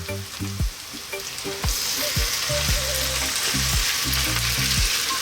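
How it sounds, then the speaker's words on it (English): Lamb frying with garlic in olive oil in a pot for Ethiopian siga be dinach stew, a steady loud sizzle with repeated scraping stir strokes cutting through, close by. "And then we're going to add our lamb, or our meat, or siga."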